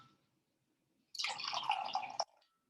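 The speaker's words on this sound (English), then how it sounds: "that's 1/2 cup of warm water to the sugar" Half a cup of warm water pours onto sugar in a bowl while making New York-style bagel dough, a close, bright splashing stream lasting about a second and ending abruptly, with no talk over it.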